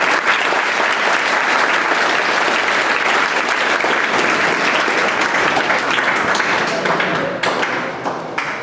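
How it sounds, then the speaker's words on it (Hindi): Students at a coaching-centre Teacher's Day celebration in Kasimabad, Ghazipur, clap together in loud, sustained applause that continues at full strength before tapering slightly at the end. "सबसे पहले आप ताली बजा दीजिए सर।"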